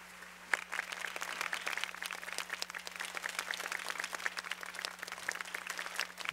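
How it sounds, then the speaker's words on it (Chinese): A church congregation at a Sunday service applauds to welcome its leaders, a sustained burst of many hands clapping, dense and even, heard from a moderate distance. "我们热烈鼓掌来欢迎他们，好不好？"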